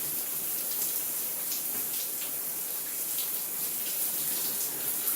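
Steady running water soaking a section of natural 4C hair, a continuous hissy spray-like rush with faint splashing, close and even throughout with no talking.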